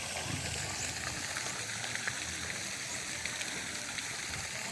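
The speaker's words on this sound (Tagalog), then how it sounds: "So, mayroon silang fountain." Water splashing steadily from a fountain at Amaya View in Cagayan de Oro, a continuous close hiss and trickle with no talk.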